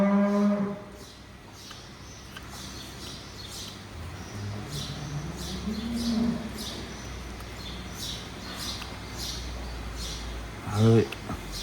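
Dairy cows on a farm mooing in the background, with a couple of drawn-out low moos rising and falling and a sharper call near the end, under scraping noises and a person talking close by.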